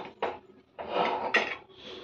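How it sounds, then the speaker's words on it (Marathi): A metal pressure cooker lid is fitted and closed, producing a few close, sharp clanks and a scraping rattle of metal on metal in a quiet kitchen. "कुकरचं झाकण लावायचं"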